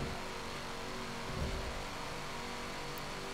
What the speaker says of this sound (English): I'm racing in Forza right now.